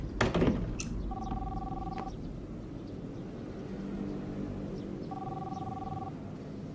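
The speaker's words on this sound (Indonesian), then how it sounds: "Ini siapa lagi yang telepon?" A telephone rings twice, each ring a one-second electronic double tone, over a low rumbling background.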